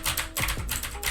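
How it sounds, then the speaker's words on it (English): Rapid, loud clacky keystrokes on a mechanical keyboard with blue switches, a quick irregular burst of sharp clicks played close and alone. "I have a blue switch keyboard and the keyboard is really loud."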